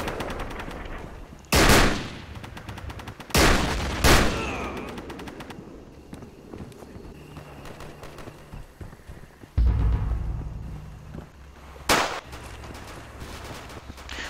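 Flak panzer's flak gun firing in a World War II video game set in Europe 1944-45: a handful of loud, separated bursts at irregular intervals, each a short rattling volley, with quieter battle ambience between.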